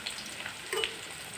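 Chopped onion hitting hot oil in a pan for kosha mangsho, with bay leaf already in, giving a steady soft sizzle with a brief louder burst partway through; no talking.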